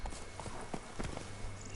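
Roach, a horse in The Witcher 3, clip-clops with steady hoofbeats in a quick walking rhythm, close by and fairly quiet, with no talk over them.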